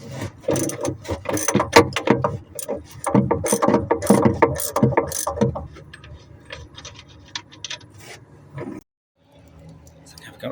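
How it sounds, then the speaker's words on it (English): Socket wrench ratchet loosening a bolt on the bow chain plate of a Raven 26 sailboat, with quick bursts of clicking strokes, then slower single clicks and a pause, under occasional talk. "Borrowed a socket set from the tool library."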